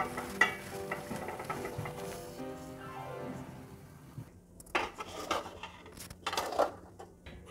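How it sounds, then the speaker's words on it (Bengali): Raw mango pieces are stirred into sugar syrup in a pan for a sweet pickle, with clinking and scraping of a utensil against the pan, a low bubbling underneath, and sharper knocks toward the end, no talk. "এবার আমগুলো আমি এই চিনির সিরার মধ্যে ভালোভাবে নেড়ে মিশিয়ে দিচ্ছি।"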